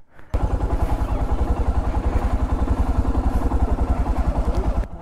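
A motorcycle engine at the start of a winter ride in Sikkim, a loud close pulsing idle with a fast even thump that runs steadily before cutting off, with no voices.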